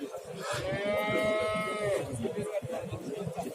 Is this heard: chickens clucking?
no